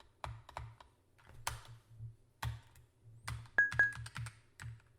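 Computer keyboard keys pressed in short, irregular bursts of crisp clicks and taps, close and clear in a quiet room, with no talking.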